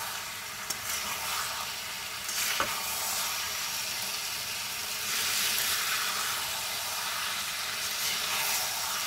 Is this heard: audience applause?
no